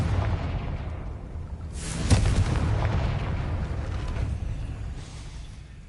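Confringo blasting spells in Hogwarts Legacy explode in a steady rumbling barrage, with a sharp burst near the two-second mark and a later swell, dense low booms and crackle filling the whole stretch without speech.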